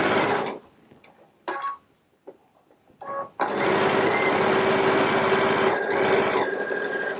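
A Baby Lock Solaris sewing machine with a 1/4-inch piecing foot chain-pieces quilt blocks. It whirs in short bursts with pauses, then settles into a long, steady, close stitching run.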